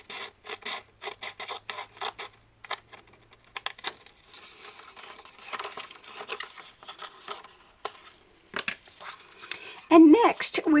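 Paper scored and folded for a children's Bible craft page makes a rapid run of scratchy rasping strokes, then softer rubbing and crinkling, with a louder crinkle at the end; a voice talks over part of it.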